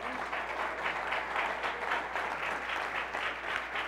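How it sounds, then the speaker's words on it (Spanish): Sustained applause from a church congregation at an evangelist's service, a dense, even roar of many hands clapping throughout, fairly soft and slightly distant, with no voice over it. "dar ese fuerte aplauso a su gloria"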